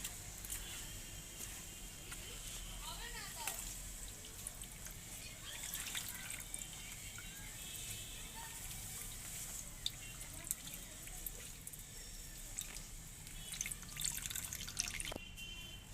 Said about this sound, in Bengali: ঠিক আগের মতন করে এইভাবে চেপে রসগুলো বার করে নেব।